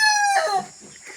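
A fighting rooster bred for cockfighting crows close by, one bright, harmonic-rich call that breaks off abruptly into softer clucking noises.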